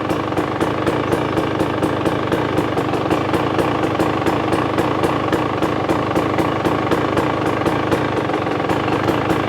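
A 2023 KTM 300XC dirt bike engine idles steadily and evenly for the whole stretch, with a fast regular ticking pulse and a constant mid-range hum, close and fairly loud.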